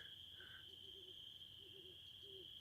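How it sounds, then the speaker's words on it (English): A great horned owl hoots at night over open grassy country, several faint, distant low hoots in short groups, backed by a constant high insect drone. "Great horned owl."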